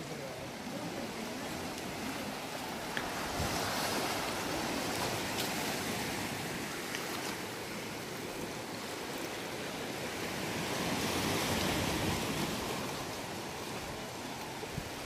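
Sea waves at Laredo beach on an overcast, showery day roll in as a steady broadband wash of surf, swelling and easing slowly, moderately distant with no voices.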